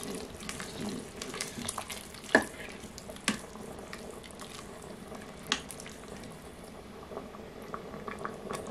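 A pot of peas and vegetables simmering on the stove after half the liquid is stirred in, a steady low bubbling hiss with a few faint clinks of a utensil against the pot.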